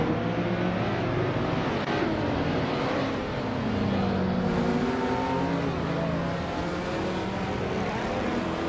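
Video game race cars, including a 2016 Porsche 718 Boxster, roar off the starting line together, a continuous dense engine drone rising and shifting in pitch as the pack accelerates, loud and steady throughout.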